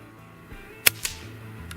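A suppressed rifle shot at a trade show range, fitted with an AAC Element II or Q El Camino suppressor, gives a sharp muffled crack followed by a quick metallic ting, over low background noise.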